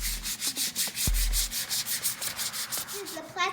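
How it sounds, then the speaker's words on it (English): Hand sanding inside a wooden vinyl record holder: steady rhythmic rubbing strokes of sandpaper on wood, close and repeated about every quarter second, with a brief knock partway through. "We'll sand the inside by hand."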